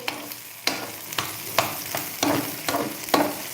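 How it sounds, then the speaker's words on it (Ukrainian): Tomatoes sizzle in a hot frying pan while a utensil stirs, with sharp scraping strokes recurring about every half second. "Підсмажуємо ще помидорчики."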